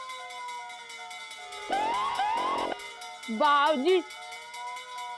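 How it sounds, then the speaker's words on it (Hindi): A fire brigade siren wails in two rising sweeps during a comedy scene, fairly loud against a steady background tone, followed by a brief spoken voice. "फायर ब्रिगेड की आवाज कहाँ से आ रही है?"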